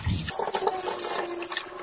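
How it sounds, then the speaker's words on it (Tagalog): Water from a tap runs steadily while tomatoes are washed for a fern salad, a loud, continuous splashing rush that carries on without pause. "Hugasan na natin yung ating kamatis."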